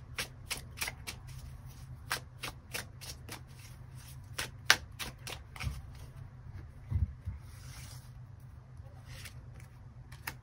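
A deck of tarot cards is shuffled again and again in a quiet room, a rapid run of crisp riffling bursts at close range, with soft card handling between them.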